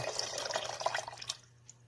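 Ginger lemon juice poured into a pot in a country kitchen, a soft trickling, dripping liquid stream up close that thins out and stops near the end, over a faint steady hum.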